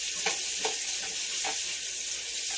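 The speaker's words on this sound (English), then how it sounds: "these have been sautéing here for about 5 minutes now" Vegetables for a chicken stew sauté in a pan with a continuous bright sizzle and hiss. Soft stirring clicks come through now and then.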